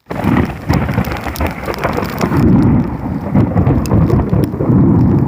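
Thunder rumbles through heavy, steady monsoon rain in a storm with lightning around, the downpour loud and close with deep rolling booms underneath.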